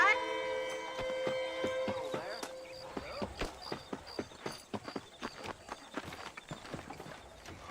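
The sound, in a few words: horse hooves clip-clopping in a video game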